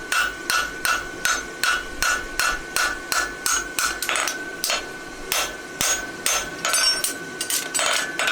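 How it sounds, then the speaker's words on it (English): A hammer strikes a horseshoe on an anvil in a quick, steady rhythm, sharp ringing blows repeating close by with no talking. "You can use the round side of your hammer to come up right next to the clip."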